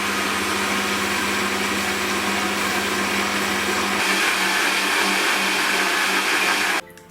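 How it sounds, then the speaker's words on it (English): An electric stand mixer whisks meringue with vanilla sugar at a loud, steady whir that shifts in tone midway and then cuts off abruptly near the end, with no talk. "while my machine is whisking, I am going to add in my sugar gradually"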